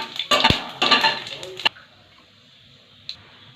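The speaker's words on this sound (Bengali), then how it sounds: "ফোড়নের জন্য গোটা জিরে দিলাম, ও দুটো তেজপাতা দিয়ে ভালোভাবে নেড়ে চেড়ে নিলাম।" Whole cumin seeds and two bay leaves stirred in a pan for tempering, a spoon scraping and clinking against the metal in quick bursts, then near silence with one last faint clink.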